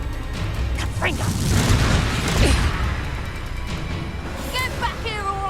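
A Confringo blasting spell cast in Hogwarts Legacy, heard as loud booming bursts and crackling impacts within a busy battle, with shouted game dialogue and magical whooshes over it.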